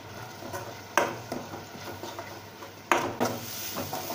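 Chili, turmeric and coriander spices being stirred in a pan, with soft scraping and a faint sizzle, and two sharp metallic knocks of the spoon against the pan.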